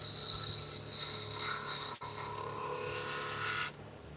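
A lathe tool shaves metal with a faint, steady whining scrape, broken by a brief dip in the middle, then stops abruptly near the end.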